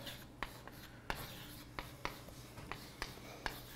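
Chalk or marker strokes on a board during a mathematics lecture on higher-dimensional varieties, a faint series of short taps and scratches at irregular intervals over a quiet room hum.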